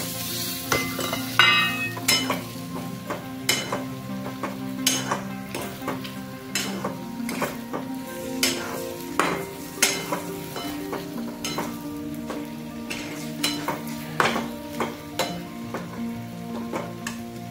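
Steady frying sizzle as eggs are added to a pan for egg curry, with frequent sharp clicks and scrapes of a utensil stirring, no voices.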